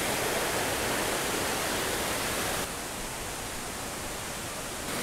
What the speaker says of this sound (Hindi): ऊपर से पहाड़ों से पानी आ रहा है बहता हुआ